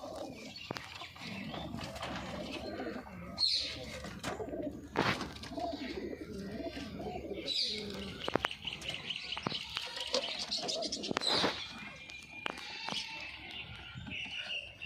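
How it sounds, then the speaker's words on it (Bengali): A pet pigeon coos in low, soft, repeated phrases at close range, with chirping birds and faint ambient noise around it. "এই পায়রাটা 2-3 দিন হয়েছে এনেছি।"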